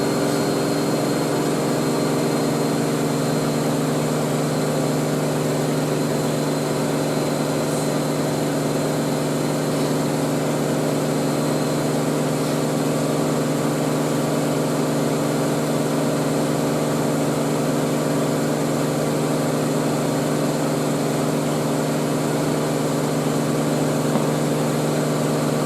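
A Miele W562 Prestige Plus 6 washing machine on a high 1600 RPM spin gives a steady, loud, continuous whine and hum, unchanging throughout with no voices.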